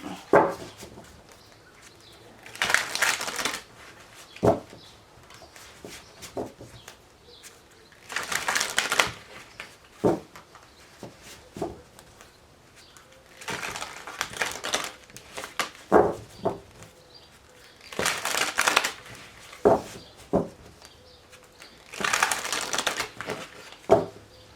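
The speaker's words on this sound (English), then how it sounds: "just a couple more shuffles" Tarot cards are shuffled in repeated bursts of riffling and bridging, with crisp flutters coming every few seconds. Soft taps and handling noises fall between the bursts in a quiet room.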